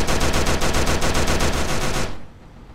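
Rapid automatic gunfire in a Skibidi Toilet video game rattles loudly in a fast, even burst for about two seconds, then stops abruptly.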